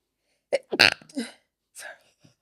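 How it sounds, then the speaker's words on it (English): A single sharp sneeze bursts out close by, followed by a brief quieter exhale. "Everybody sneezes."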